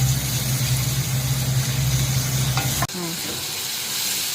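A pan sizzles steadily as ingredients fry for a fish curry, the loud hiss broken near the end by a sharp clatter and a brief scrape, then continuing more quietly, with no talking.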